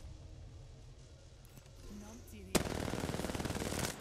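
Automatic gunfire in the Apex Legends battle royale game, a sudden loud burst of rapid shots starting partway through and continuing steadily to the end over quieter game sounds and faint talk.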